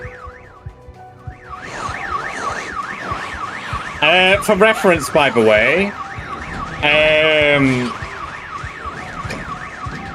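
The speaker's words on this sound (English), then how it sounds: "that alarm going off" Loud electronic alarm blaring in a survival video game, a repeating rising-and-falling wail with harsher pulsing bursts layered on top, while someone talks briefly over it.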